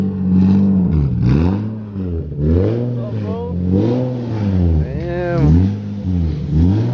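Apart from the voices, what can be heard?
Nissan 370Z with titanium Tomei exhaust revving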